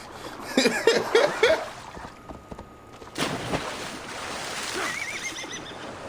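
Horse in the video game Assassin's Creed Valhalla giving a loud, shrill whinny in several quick bursts, then splashing and water movement with a softer whinny later.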